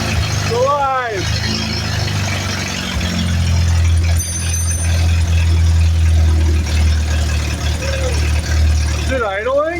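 A 1948 Willys pickup engine idles steadily with a low, continuous rumble throughout, while voices speak briefly over it at the start and end.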